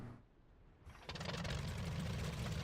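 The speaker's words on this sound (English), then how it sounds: "Engine on." A World War I aircraft engine in a flight game catches and starts after a short quiet lead-in, then settles into a steady, loud, rumbling drone that continues to the end.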